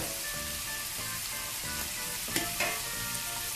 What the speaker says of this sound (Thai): ใส่เพิ่มน้ำมันลงไปอีกนิดหน่อยค่ะ